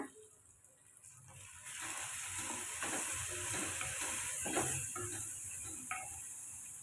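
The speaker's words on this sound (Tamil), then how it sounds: "தக்காளிக்கு தேவையான அளவுக்கு உப்பு சேர்த்து ஒரு ரெண்டு நிமிஷம் வதக்கிக்கோங்க" Steady loud sizzling of tomatoes sautéing in a pan, with occasional stirring clinks, close by and continuous.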